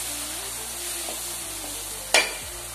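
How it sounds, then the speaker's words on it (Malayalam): Turmeric and garam masala are stirred into a pan of egg chana masala, giving a steady low sizzle with a single sharp spoon scrape against the pan near the end. "അര ടീസ്പൂൺ മഞ്ഞൾപ്പൊടി 1 ടീസ്പൂൺ ഗരം മസാല അതിട്ട് ശേഷം വീണ്ടും യോജിപ്പിക്കുക"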